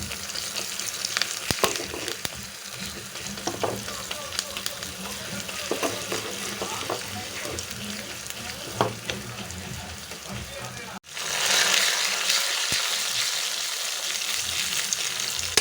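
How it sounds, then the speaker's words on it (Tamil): Dried chilies, fenugreek, asafoetida, onion and curry leaves frying in a pan for sambar tempering, a continuous crackling sizzle with occasional stirring clatter that briefly drops out and then returns louder and steadier; faint background voices. "நாலு காஞ்ச மிளகு வெந்தயம் பெருங்காயத்தூள் வெங்காயம் கருவேப்பிலை போட்டு நல்லா வதக்கிடுங்க"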